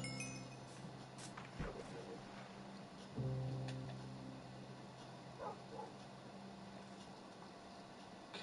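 A pet dog in the Minecraft video game barks a couple of times amid quiet game ambience and soft clinking effects, fairly faint overall.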